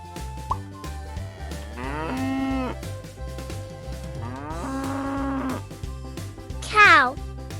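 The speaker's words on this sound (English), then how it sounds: "Cow." Two long, drawn-out cow moos sound clearly over a repetitive music beat in a children's farm-animal counting cartoon, followed by a short high squeak.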